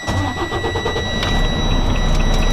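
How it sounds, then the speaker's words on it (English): A truck engine cranks with rapid chugging pulses, then fires up and builds into a loud, steady running roar close by, during a Class A brake test. "Now we're going to start the engine."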